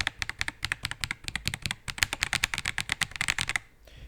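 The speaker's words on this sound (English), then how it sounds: "So you can hear the keyboard" Fast, steady typing on a DarkBeacon Flux 87 keyboard placed right beside the microphone, crisp close clicks in a quick even rhythm that stop abruptly near the end.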